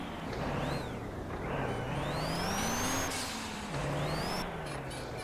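An engine drones and rises in pitch as a truck brakes and accelerates in Apocalypse Truck Simulator, a sustained loud rumble with whining tones that swell and fall, heard without talk.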